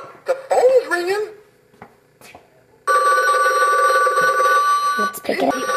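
A Mickey Mouse toy telephone in a child's bedroom rings with a steady, bright electronic tone for about three seconds, loud and close, after brief children's chatter and before more talking.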